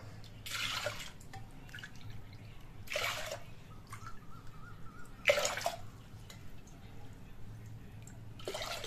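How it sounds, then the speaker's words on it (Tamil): Water is poured from a cup into a cooking pot for palak spinach kuzhambu in four separate splashing pours, each a short gush followed by quiet drips, close and fairly soft. "நான் வந்து ஒரு 4 கப்பு தண்ணி சேர்த்திக்கிறோம்."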